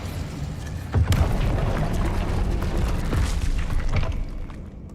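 The Incendio fire spell is cast in Hogwarts Legacy, a loud whooshing burst with a booming onset. It roars on for a few seconds and then fades out, with almost no talking.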